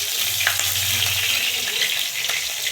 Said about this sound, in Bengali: ফোড়নে দিচ্ছি কালো জিরে, আর দিয়ে দেবো কয়েকটা কাঁচা লঙ্কা